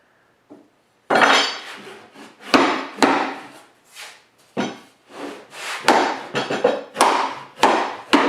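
A hammer drives nails into wooden beehive bodies, giving sharp, loud, irregular blows at close range, some in quick pairs, with short pauses between strikes.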